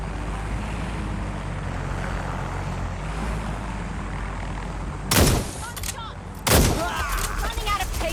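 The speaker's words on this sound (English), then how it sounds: "They won't stop shooting." Gunfire in the video game Watch Dogs: Legion, two sharp, loud bursts of shots cutting over a steady background rumble of engine and ambient game noise.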